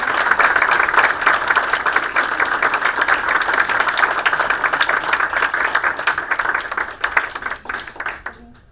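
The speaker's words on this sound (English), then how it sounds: "round of applause for" A Kill Devil Hills Board of Commissioners meeting room fills with a round of applause, brisk dense clapping that holds steady for several seconds and then quickly tapers off to quiet.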